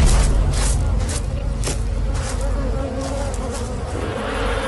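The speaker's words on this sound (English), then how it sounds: "Bees sting to defend the hive, and most animals know it." A dense swarm of honeybees hums loudly and continuously at the hive, with individual buzzes passing close amid a low rumbling background.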